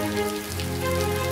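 Steady rain pattering on a surface in a children's cartoon, a constant hiss of drops with no voices.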